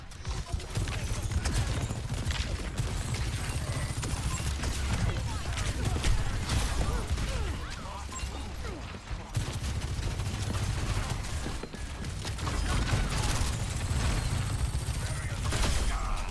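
Sojourn's railgun firing in Overwatch 2 during a busy match, loud and continuous, mixed into dense gunfire, clattering effects and a game voice talking over it.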